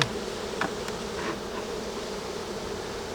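A steady, close drone of many honey bees buzzing around an open hive during a beekeeper's frame work, with a few louder individual bees passing near.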